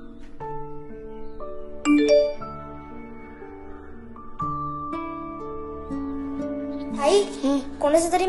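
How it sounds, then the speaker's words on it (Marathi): A phone message notification chime plays as a series of clear, bell-like ding-dong tones stepping through several pitches, with brief louder accents and faint voices near the end. "कोणाचा तरी मेसेज आलाय बघ."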